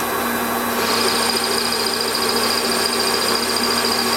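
A toolpost grinder on a Warco lathe grinds stainless steel, a loud, continuous high whine with a steady hum that holds unchanged throughout, with no voices.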